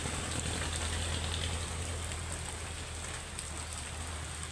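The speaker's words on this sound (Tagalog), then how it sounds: "Guys, inabot kami ng ulan." Steady rain pouring down near the top of a mountain on the way to a waterfall, a dense, even hiss of drops on surfaces with no voices.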